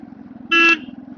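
Car horn sounding once in a short, loud, steady toot on a village road, over the constant hum of a running engine.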